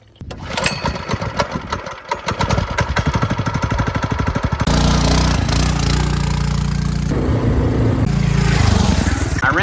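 A small go-kart engine runs at a slow, steady idle on break-in oil, its rapid even putter loud and close, with the pitch and texture shifting a little partway through as it keeps running alone.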